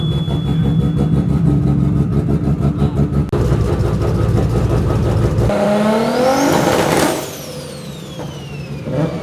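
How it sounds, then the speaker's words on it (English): Loud engines of Nissan cars, including GT-Rs, rumble and rev nearby as they pull away at a roll racing event, the roar rising in pitch and then fading as they move off. "Cars are just rolling out now."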